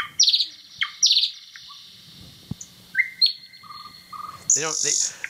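A bird sings clear, loud phrases: bright trills, sliding whistles and a buzzy flourish, spaced by brief pauses against a quiet background.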